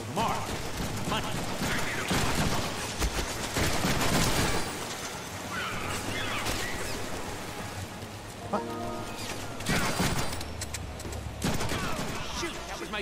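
Rapid video game gunfire in a chaotic shootout, dense bursts of shots that run almost continuously under busy game audio, loud and close throughout.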